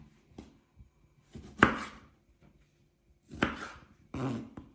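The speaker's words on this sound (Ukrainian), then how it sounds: "розрізаємо їх навпіл і ще раз ось такими трикутничками" A knife slices cherry tomatoes in half and then into wedges on a board, giving a few separate soft cuts and taps with quiet gaps between them.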